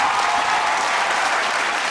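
Studio audience at a Kannada television game show clapping in a loud, dense burst that runs unbroken for the whole short stretch, with no voices over it.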